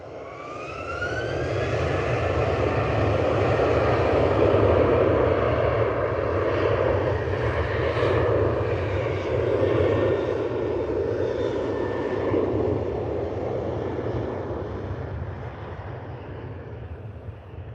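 An aircraft begins its takeoff roll at Liverpool Airport. After a brief quiet start, a loud engine roar rises and holds steady for many seconds, then eases slightly toward the end.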